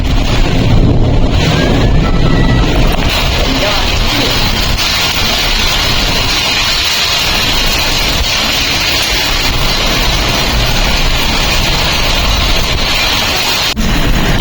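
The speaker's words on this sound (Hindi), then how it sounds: "यहाँ इतनी जोर की बारिश है" Heavy rain roars steadily with a deep, rumbling undertone like distant thunder, blended with gusty wind noise across the microphone.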